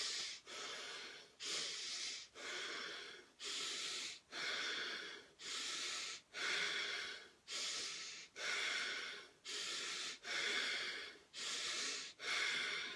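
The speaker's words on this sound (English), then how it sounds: "So breathing in." Forceful breaths during a fast breathing exercise, a steady run of about a dozen sharp, hissing inhales and exhales close to the microphone, evenly spaced with no talking.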